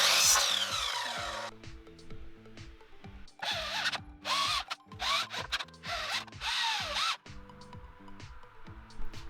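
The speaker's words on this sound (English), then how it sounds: "I'm going to reuse this piece of wood as well from Jack's old wall, cut it off at 95 inches" A reused piece of wood is cut to length, with several loud bursts of power-tool sawing separated by pauses over a steady low background music-like drone.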